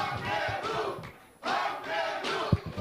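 Crowd at a Korean party convention for supreme council candidates greets candidate Park Maeng-woo with loud cheering and applause in two strong surging waves, separated by a brief dip, with a few thumps near the end.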